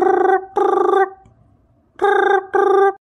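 A telephone rings back after a call is placed, four loud, close electronic ring bursts in two pairs with a short silent gap between them, and no talk over it.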